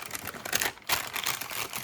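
Greaseproof paper crinkles and rustles while being pulled tight over a candle for image stamping, close, busy crackling bursts with a brief pause midway, no talk.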